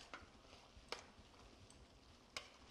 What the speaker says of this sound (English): What I'll do now, I'll mix it with the sauce.